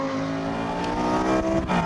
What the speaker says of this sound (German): Der Sound, wenn die Drosselklappen aufgehen.